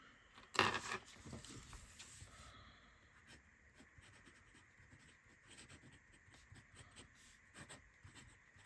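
A medium-nib fountain pen with a copper-gold finish scratches softly across paper in short, quiet strokes, close up, after a brief louder rustle at the start.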